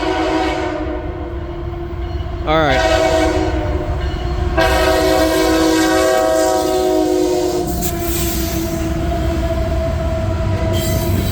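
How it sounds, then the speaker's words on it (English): A loaded CSX coal train passing close by, its horn blaring in long tonal blasts over the rumble and squeal of steel wheels on rail, with a brief word from a man near the start. "loaded coal train"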